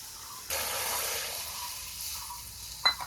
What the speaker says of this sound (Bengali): ভালোভাবে কষিয়ে নিলাম, মশলা থেকে তেল ছেড়ে দিয়েছে, এখন ঝোলের জন্য অল্প জল দিই।